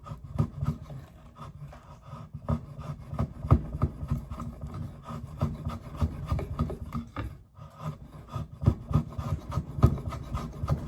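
A knife carves and shaves a piece of wood in close, repeated rasping strokes, an uneven rhythm of scraping cuts with a brief pause midway.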